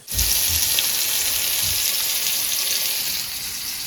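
Bombay duck fish fries in a pan, a loud close sizzle that starts abruptly and continues steadily, with a few low thumps at the start and no talking.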